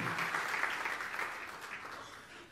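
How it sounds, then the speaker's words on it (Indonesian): Congregation at a church service applauding, a dense, steady wash of clapping that holds loud throughout and fades slightly toward the end. "Tepuk tangan yang meriah untuk kamu"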